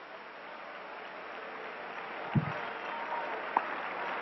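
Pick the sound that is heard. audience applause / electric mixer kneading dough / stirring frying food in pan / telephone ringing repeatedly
audience applause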